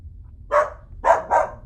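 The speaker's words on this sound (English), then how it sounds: "Bob the dog." A dog gives three short barks, one alone and then a quick pair, close and clear over a faint low hum, with no talk, suited to a children's storybook read-aloud about a dog.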